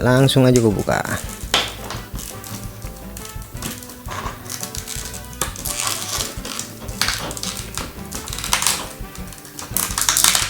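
Rustling and crinkling of toy car packaging, an M2 Machines 1971 Nissan Skyline 2000 GTR, being handled and torn open, with scattered sharp clicks and crackles, close by and fairly continuous.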